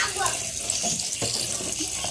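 Kitchen tap running water over freshly cooked pasta to rinse it, a steady close splashing stream with brief voices heard faintly underneath.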